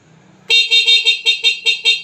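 A stock car horn on a Suzuki Samurai honks in a quick series of short, loud bursts with a brief pause, after a quiet moment; no talking.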